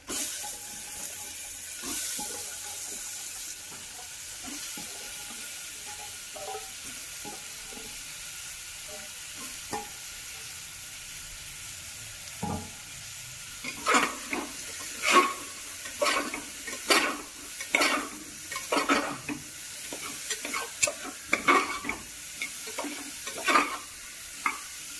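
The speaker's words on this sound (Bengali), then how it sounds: "এবার এতে দিয়ে দিচ্ছি আমরা কেটে রাখা সব সবজিগুলোকে।" Chopped vegetables sizzle in a pan for a broken-wheat daliya khichuri. A soft, steady fry gives way to repeated sharp scrapes and clatters of stirring in the second half, with no talking.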